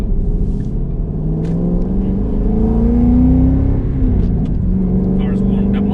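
A 2013 Shelby GT500 engine on the move, a loud, close, deep rumbling drone that climbs and falls in pitch as the throttle varies, steady and continuous throughout.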